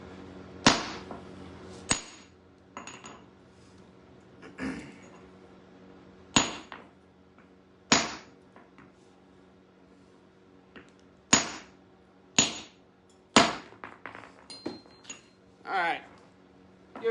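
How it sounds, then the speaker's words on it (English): A geode struck by hand with a hammer to crack it open: about a dozen sharp, loud knocks spaced irregularly, some in quick pairs, with quiet gaps between and faint handling noise. "I'm just going to smack it a couple times."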